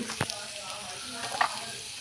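Vegetables sauté in a pan for a curry, salted as they soften, giving a steady, quiet sizzle and crackle with a soft stirring scrape partway through and no voices.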